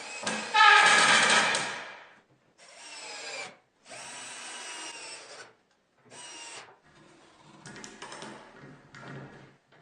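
Power drill running in several bursts as it is fitted onto a scaffold frame being motorized, loud and close, with short pauses between runs and no talk.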